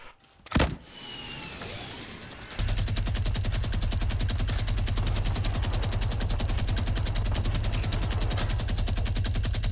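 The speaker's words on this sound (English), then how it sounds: "I'm gonna bazooka and I'm gonna minigun the fuck out of it." Fortnite gunfire from a minigun and bazooka: after a sharp blast and brief rustle, a loud, rapid continuous stream of minigun fire runs unbroken for several seconds.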